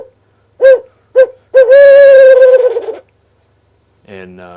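Two short hoots, then a longer drawn-out wavering hoot, loud and close, a human voice imitating a barred owl as a locator call; a brief different call follows after a pause.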